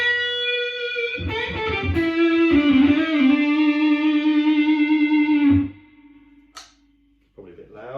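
Electric guitar through fuzz with the guitar's volume knob rolled back, on a Yamaha Revstar RSP20CR: sustained chords ring out over several seconds, then decay into a quieter held note before a brief new strum.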